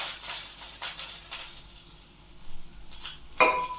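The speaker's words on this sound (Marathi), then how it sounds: "आता मी कांदा पण टाकणार आहे मस्त भाजी डाळ कांद्याची लागतील कढीपत्ता पण टाकणार आहे" Onion and curry leaves frying in hot oil in a pan for Saoji dal kanda, a steady soft sizzle and hiss with light clinks of a spoon against the pan and one sharper scrape near the end.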